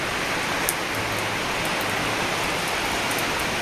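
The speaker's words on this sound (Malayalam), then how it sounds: "അപ്പോൾ മഴ പെയ്യുന്നുണ്ട് പുറത്ത് നല്ലോണം" Heavy rain falls outside near an apartment building, a steady, dense hiss of drops that stays even all the way through, with no voices.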